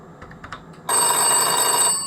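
An old landline telephone's bell rings loudly and steadily for about a second after a few faint knocks, a continuous metallic jangle during a test call in a home workshop shed.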